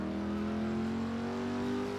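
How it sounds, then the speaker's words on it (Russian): A Pontiac Trans Am engine in the Driver San Francisco video game holds a loud, steady droning rev that climbs slightly in pitch, with no other sounds. "Pontiac Trans Am. Вот это машина мечта."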